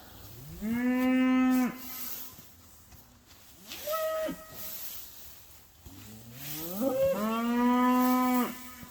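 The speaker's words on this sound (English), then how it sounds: "Loudmouth cows." Homestead cows moo loudly and close by in winter, three long drawn-out calls with quieter gaps between, one shorter low moo in the middle.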